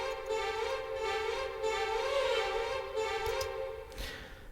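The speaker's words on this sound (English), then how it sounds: "I've also opted to include some violin runs" Programmed MIDI strings play violin runs with an accent at the start of each run, sustained and moderately quiet, with swelling bowed tones layered over a low backdrop.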